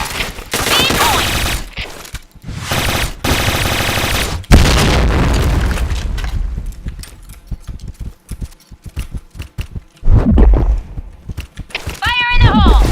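Grenade blasts and gunfire in the shooter game Point Blank come as heavy, booming bursts, some thick and sustained, others short and cutting off abruptly, with in-game voice calls heard between them.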